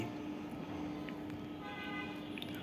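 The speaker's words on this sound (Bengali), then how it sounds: "আরে কে এত হর্ন বাজাচ্ছে" Car horns honk in short toots over a steady background of traffic and engine noise on a street in the Bangladeshi video game Project Bangla.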